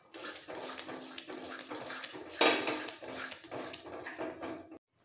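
Mung dal with salt and turmeric being stirred in a pot, a metal spoon scraping and clinking against the sides in a steady rhythm, close and fairly loud, ending abruptly.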